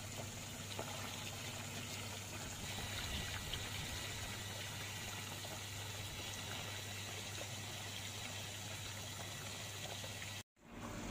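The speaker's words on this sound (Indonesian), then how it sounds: "Sambil di sini saya dripping biar ketinggian airnya juga lebih tinggi" Water runs steadily into a koi pond to raise its level, a constant close trickling wash that holds even for about ten seconds before cutting off abruptly.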